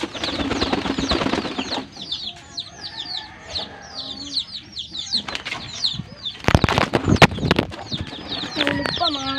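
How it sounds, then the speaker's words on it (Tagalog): Pigeons and chickens in a coop, with loud close wing flapping as a pigeon lands, bursts of flutter among clucks and bird calls, while a person talks nearby. "Dumapo kasi yung kalapati natin dito."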